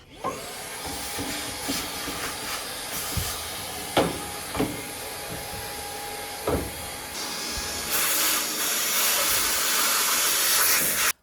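A stick vacuum cleaner with a dryer vent attachment runs steadily with a hissing roar, broken by a few sharp knocks and clunks, and grows louder and brighter near the end.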